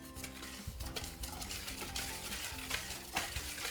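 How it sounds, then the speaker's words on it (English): Cake batter ingredients whisked together in a bowl, a continuous close scraping and clinking rhythm with repeated quick strokes against the bowl for several seconds, with no voices over it. "Now whisk it together."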